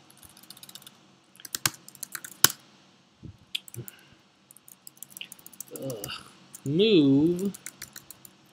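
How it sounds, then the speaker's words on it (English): Close, uneven bursts of computer keyboard typing and clicking while playing the hacking game Hacknet, with pauses between clusters of keystrokes, a single spoken word partway through and a voice talking near the end. "Oh my god, typing is hard!"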